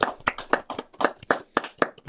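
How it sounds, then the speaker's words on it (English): A small studio audience claps in sharp, quick, evenly spaced claps, close and clear with no talking over it. "Round of applause in the studio audience"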